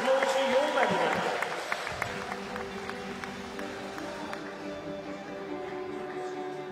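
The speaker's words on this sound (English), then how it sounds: "a round of applause for your medal winners" Applause rises from the crowd at a para swimming world championships finals session in Glasgow as the medal winners are honoured, a spread-out, fairly faint clatter of clapping in a large echoing pool hall, with a voice heard briefly at the start.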